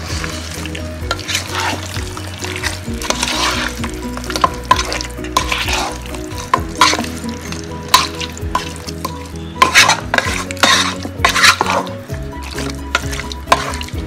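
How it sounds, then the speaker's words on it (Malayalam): Chicken biryani being stirred in a pot: repeated scraping and clattering of a spoon against the pot over a steady frying sizzle, close and fairly loud, in irregular bursts. "നന്നായിട്ട് മിക്സ് ചെയ്ത് കൊടുക്കുക."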